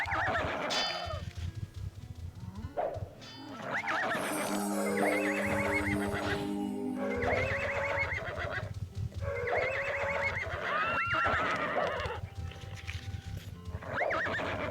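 Horse in the video game Ultima Online whinnying and neighing repeatedly in bursts over a steady game backdrop, with hooves clip-clopping at moments; no one speaks.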